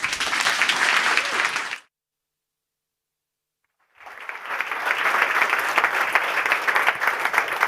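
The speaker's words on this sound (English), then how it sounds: "Keep the applause going for all three of those farmers, please." Summit audience at a London climate action food event applauds farmers, a loud wash of crowd clapping that cuts to silence for about two seconds, then resumes and carries on strongly.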